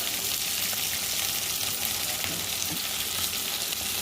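Chopped onion, carrot, tomato and green chilli fry in a hot tempering with turmeric for sambar, giving a loud, dense, unbroken sizzle throughout, with no talking.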